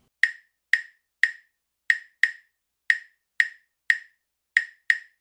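A 3-2 clave rhythm on clave sticks: three crisp wooden clicks, then two, played through twice at a steady tempo. The strikes are close and dry, with silence between them.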